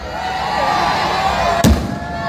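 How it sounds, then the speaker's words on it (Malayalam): Fireworks go off in the background at the opening of a football tournament in Pookkottur: one sharp, loud bang cracks over a steady crowd murmur. "ഈ വെടിക്കെട്ടുകൾ ബാക്കിൽ നടക്കുന്നുണ്ട്."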